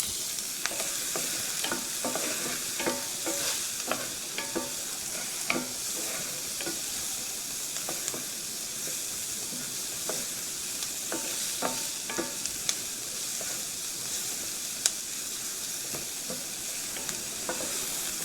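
Onions frying in beef drippings in a pan for stroganoff, a steady crackling sizzle throughout with frequent light stirring clicks and scrapes, no talking.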